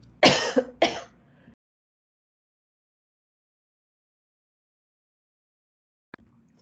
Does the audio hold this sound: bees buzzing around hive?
no